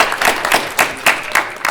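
An audience at a business challenge event applauds, with rhythmic, fairly close hand claps repeating steadily for a moment.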